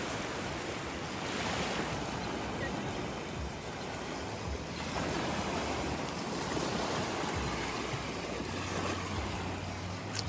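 Surf washing onto Winifred Beach, a steady broadband wash of waves with some wind buffeting the microphone, continuous and fairly even throughout with no talking.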